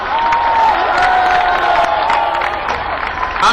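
A large outdoor crowd at a Dussehra Ramlila event in Dwarka, Delhi, applauds and cheers loudly and steadily to welcome Prime Minister Modi, a dense wash of clapping and shouts with amplified voices echoing over it.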